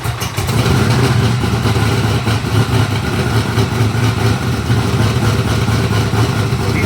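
A vehicle engine with a failed transmission, fired up and idling loudly and close by in a continuous rough rumble.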